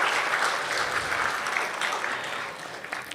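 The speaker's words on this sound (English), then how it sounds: "we should give Masita Hall another round of applause." An audience at a 75th birthday celebration applauds, a dense, even clatter of many hands clapping that holds steady for several seconds.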